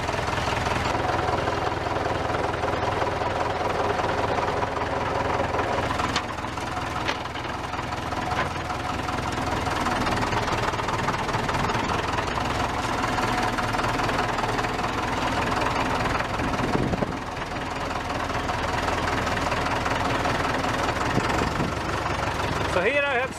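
Tractor under renovation running with its engine loud and close, a continuous low rumbling drone with rattling and knocking textures throughout, steady level with occasional louder bumps.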